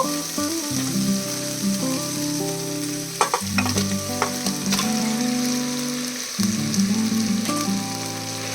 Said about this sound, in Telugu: ఇప్పుడు మ్యారినేట్ చేసి పెట్టుకున్న మటన్ వేసేసుకుందాము.